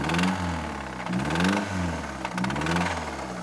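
A worn, rusty old car's tired motor runs close up, its engine note rising and falling in a steady rough pulsing rhythm with no talking.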